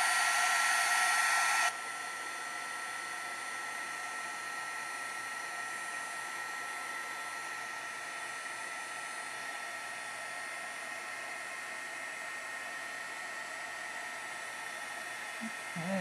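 A handheld hair dryer blows steadily on a wet watercolor painting, a loud continuous whooshing whine that drops slightly in level after a couple of seconds and then holds constant throughout.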